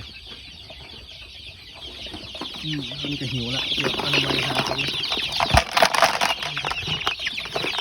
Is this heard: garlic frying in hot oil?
no